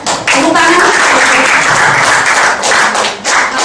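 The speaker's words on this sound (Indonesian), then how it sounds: "Yuk, tepuk tangan." An audience applauds at a heart-health talk, loud dense clapping filling the room continuously for several seconds with voices mixed in.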